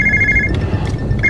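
A telephone rings indoors in a 1960s teen film scene, a steady electronic trill that cuts off briefly and resumes, loud and close with no talking over it.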